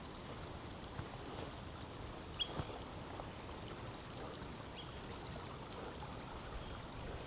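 A small neglected burn flows in a steady, faint, low wash of running water, with a few soft splashes and drips over the continuous murmur.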